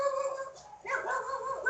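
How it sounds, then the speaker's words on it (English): A dog gives faint, thin yelping barks and whines in short bursts, distant and quiet, with no talk over them. "My dog's barking."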